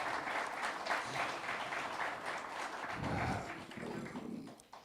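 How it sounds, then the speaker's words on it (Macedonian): Audience clapping at a public tribune in Skopje, sustained across the room with a dense, steady patter and a brief swell near the end, no voices over it. "Сакам и еден аплауз за господин Љубе."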